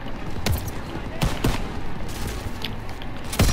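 Gunfire in the WWII shooter game Call of Duty: WWII, a burst of sharp shots landing around 0.5, 1.2, 1.5 and 3.4 seconds over a steady, busy battlefield din.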